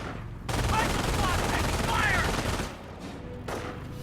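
Rifle squad gunfire in a World War II strategy game match, a dense, loud burst of rapid shots and battle noise lasting a few seconds, then fading to quieter rumble with a brief flare near the end.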